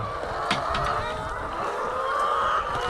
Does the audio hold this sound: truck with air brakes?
no